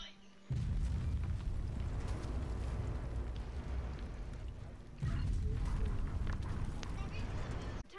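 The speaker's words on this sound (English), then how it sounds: "Protection system intercepting our mortar rounds." Heavy mortar barrage in a video game raid: a deep rumbling roll of explosions starts abruptly, holds, dips briefly and surges again, loud and sustained, with voices mixed in underneath.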